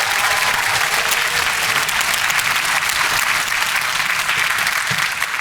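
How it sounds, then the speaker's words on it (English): Audience applause for a high school symphonic band and concert band at a fall band concert, a dense, loud, continuous roar of clapping from a large crowd, sustained evenly from start to finish. "Can we get another round of applause for our symphonic band and concert band?"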